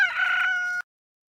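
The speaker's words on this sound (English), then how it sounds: "베드로가 말하고 있을 때 닭이 울었습니다." A single rooster crow, loud and close, one sustained call that cuts off abruptly into silence.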